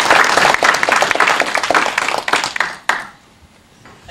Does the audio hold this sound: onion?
no